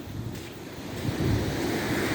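Sea waves wash onto a deserted beach shore on Jomalig island with a steady, low rushing surf, mixed with wind buffeting the microphone and swelling slightly toward the end.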